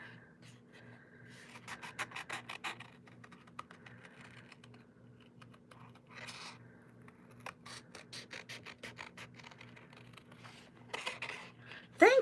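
Scissors trim a stamped paper image for a papercraft project: a quick series of close, light clicking snips in short clusters with pauses between, and no one speaking.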